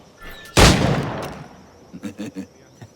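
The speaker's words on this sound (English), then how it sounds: "Pull off a few shots if you like, get a feel for it." A single loud pistol shot from a flintlock-era firearm in Assassin's Creed IV: Black Flag, booming at once and trailing off in a long decaying echo, followed by a few short muffled thuds and movement noises.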